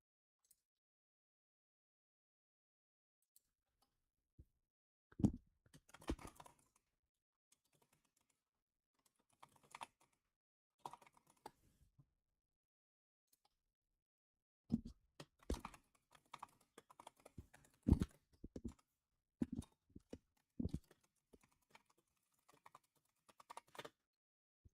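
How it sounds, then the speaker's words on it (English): Quiet clicks of typing on a computer keyboard come in short, irregular bursts separated by silent pauses, with sharper keystrokes standing out near the end. "I don't want you to hear my typing, but I think you can"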